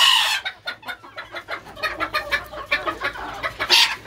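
Chickens cluck close by right after being released into a coop, a run of short repeated clucks with a brighter call near the end, with no talking.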